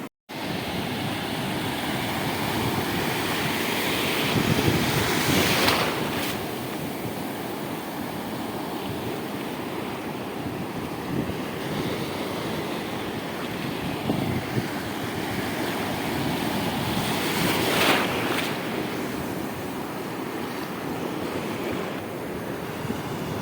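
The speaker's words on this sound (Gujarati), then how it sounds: "પાણી થઈ ગયા ને એટલે મોજો વધારે લાગે છે થોડોક." Sea waves roll and crash steadily against a rocky shore where fishing nets are set, a loud continuous surf wash mixed with gusty wind buffeting the microphone, swelling in two bigger breaks.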